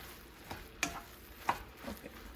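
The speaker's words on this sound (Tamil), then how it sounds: "பரோட்டா போட்டு நல்லா மிக்ஸ் பண்ணிடுங்க. அந்த மசாலா எல்லா இடத்துலையும் படணும்." Parotta being stirred and tossed with masala in a pan for Tirunelveli-style kothu parotta: a few soft scraping clacks of a spatula spaced about half a second apart over a faint steady background.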